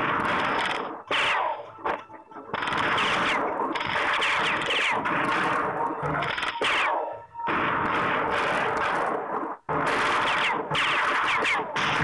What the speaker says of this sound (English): Sarajevo is also being peppered by naval guns